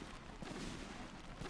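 Fireworks launched over a golf course area, heard from a distance behind a fence as a continuous rumble of muffled booms and crackles, with no voices.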